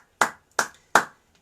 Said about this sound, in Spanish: ¿Puedes dar un aplauso a Jesús?